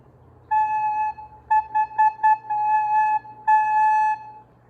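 A recorder plays a clean, steady A in a counted rhythm: one long held note, then several short tongued notes, and longer held tones at the end. It is close and clear, alone over a faint low hum.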